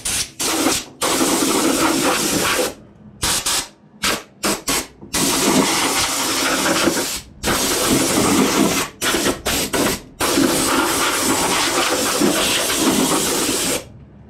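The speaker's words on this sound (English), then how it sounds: "Let me blow this out and go from there." Compressed air blasts dust out of a Ducane gas furnace in loud, hissing bursts, starting and stopping repeatedly with short silent gaps between them.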